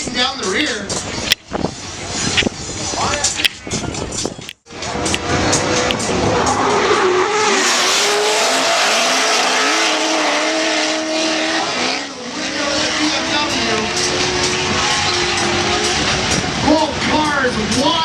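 Two drift cars in a drift competition skid and accelerate at full throttle. Loud tire squeal and roaring engines fill the clip with sharp bursts, while a commentator talks over the action.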